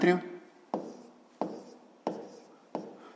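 Writing out a fifth-grade math solution by hand, heard as four crisp, evenly spaced strokes roughly every 0.7 seconds, each fading quickly, after a short spoken voice at the start.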